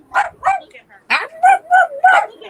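A small dog yips and whines in short, excited bursts close by, pleading to climb onto a lap, with roughly six repeated yelps in an uneven rhythm.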